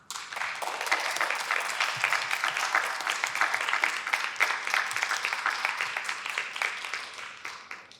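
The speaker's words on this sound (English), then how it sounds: "can we just get another big round of applause for everyone?" Audience applause at the close of a dramatic reading of a TV pilot, a full round of dense clapping held steady for several seconds at moderate loudness, with no voices over it.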